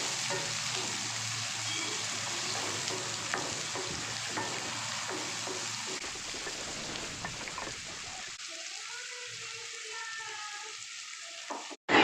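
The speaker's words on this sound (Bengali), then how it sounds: "পেঁয়াজটাকে একটু ব্রাউন করে ভেজে নিতে হবে বন্ধুরা।" Roughly chopped onions fry and brown in a pan for a mutton curry, giving a steady close sizzle with stirring scrapes throughout, and the texture shifts partway through, with no talking.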